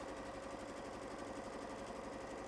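Sewing machine running continuously at normal stitch length along a dress underarm seam, a steady close mechanical hum and rapid needle rattle with no pauses or voices.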